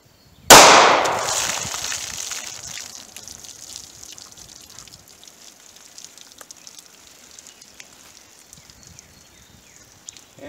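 A 9mm Federal Hydra-Shok low-recoil 135-grain round fires into denim, bologna, particle board and water jugs: one sharp, loud shot, then a long fading ring with scattered splashing and dripping.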